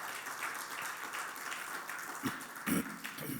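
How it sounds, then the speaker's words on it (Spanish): A church congregation claps for the Lord during a Sunday service, a soft, steady patter of many hands with a few sharper bursts, heard at a moderate distance. "Démosle un aplauso al Señor, hermano."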